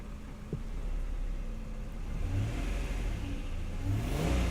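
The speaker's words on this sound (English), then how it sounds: "I don't like to rev it when the engine's cold" Cold 1992 Acura NSX engine revved lightly, a steady idle rising in a few gentle blips toward the end, close and moderately loud with no talk.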